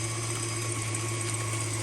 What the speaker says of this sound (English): Now, I have my KitchenAid mixer on about a 4.